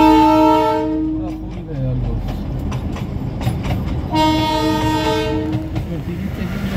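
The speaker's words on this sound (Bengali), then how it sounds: "আর একটা টয় ট্রেন এখন দেখো আর একটু পরেই আসবে।" The Darjeeling toy train on its hill railway sounds two long, loud horn blasts close by, with rumbling and wheel clatter between and beneath them.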